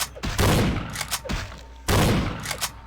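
Two loud gunshots from Vampire the Masquerade Bloodlines, each a sharp, booming crack with a ringing tail, spaced about a second and a half apart.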